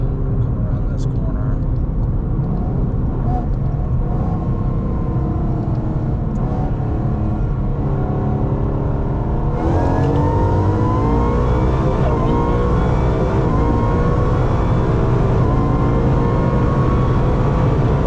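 A Roush Stage 3 Mustang, supercharged and running a chiller, accelerates hard from 60 to 130 mph on a 90-degree day, its engine droning loud and steady with climbing tones through the gears while a voice talks over it.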